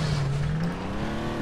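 A car engine in the video game Far Cry 3 drones at a steady, continuous pitch while the vehicle drives and slides along, loud and close with no talking.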